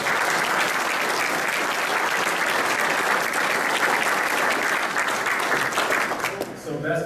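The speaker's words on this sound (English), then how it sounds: "Can we give them a round of applause," A room of attendees at a military NCO academy ceremony breaks into sustained, dense applause that holds steady and then tapers off, with a voice starting to speak as it fades.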